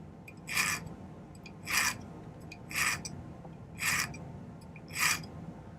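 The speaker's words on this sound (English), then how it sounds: "you can use that 90-degree angle there in order to cut a notch diagonally in the wire" A metal file rasps across a piece of 14-gauge scrap wire, cutting a diagonal notch in five evenly spaced strokes, each a short bright scrape close by, with quiet pauses between.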